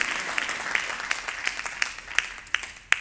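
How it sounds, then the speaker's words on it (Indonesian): A church congregation at a worship service claps in a steady rhythm, with each clap standing out as a sharp, evenly spaced beat over a low murmur of background noise. "Tepuk tangan untuk Yesus"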